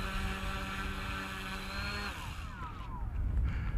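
A small radio-controlled model airplane engine, a Fly Baby on its maiden flight, buzzes loudly and steadily at full throttle, then its whine drops in pitch as the plane pulls away on takeoff, with wind rumbling across the microphone.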